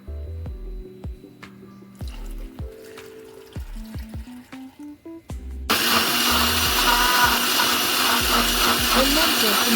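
A mixer grinder jar holding raw mango, ginger, sugar, water and lemon juice whirs into a loud continuous blend after about six seconds, following a run of tonal beeps, knocks and taps.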